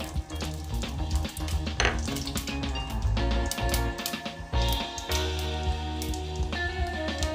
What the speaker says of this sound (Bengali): শুকনো লঙ্কাটা কড়াই দিচ্ছি তেজপাতা দিচ্ছি পাঁচফোড়নটা দিচ্ছি